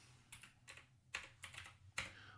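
Computer keyboard keys tapped in a few irregular bursts while working through keyboard shortcuts, close and fairly quiet with no talk.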